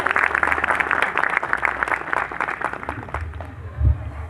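A crowd at a stage event claps loudly and steadily for a few seconds, the dense applause thinning out toward the end as a deep thump sounds.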